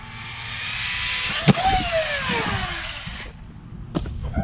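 Arrma Typhon or Traxxas Maxx RC car driving in a park, a steady high electric whine that rises and falls for about three seconds, then cuts off abruptly, with a sharp thump partway through and faint outdoor noise after.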